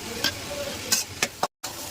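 Radish greens and green chillies stir-fry in a pan with a soft sizzle, broken by a few brief scraping strokes of stirring in a short moment, and no talk.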